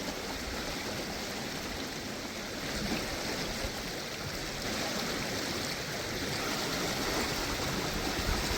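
A high, slightly murky creek rushes in a steady, broadband wash of flowing water that holds a constant level throughout, with no voices.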